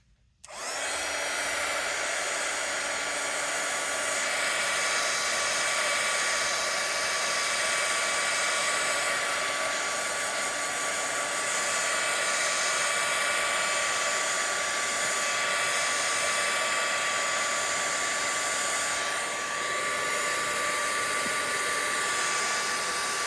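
A heat tool dries shimmer spray on mixed media craft work, a steady close whirring blower hum that switches on abruptly and runs continuously without a break.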